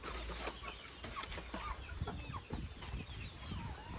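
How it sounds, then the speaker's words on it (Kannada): Chickens cluck and shuffle around a farm garden in a steady, moderately faint stream of short calls with scratching and rustling, outdoors with no talk. "ಗೈಸ್, ಕೋಳಿಗಳು ನೋಡಿ ಎಲ್ಲ ಹೆಂಗೆ ಗೋ ಗೋ ಗೋ ದಟ್ ಸೈಡ್."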